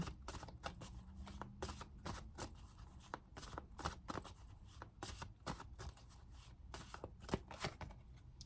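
Tarot cards being shuffled by hand, a close run of crisp riffling flutters and soft slaps in quick irregular bursts, with no talking over it.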